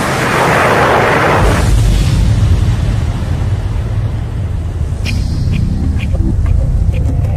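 A loud, deep explosive boom of a meteor striking the ground bursts out with a roaring blast, then trails into a long, heavy rumble that lingers, with faint voice-like sounds later.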